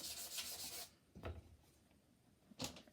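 Charcoal being rubbed into paper on a drawing makes soft, dry scuffing strokes: a long rub, then a few short separate swipes, close and fairly quiet with no talk.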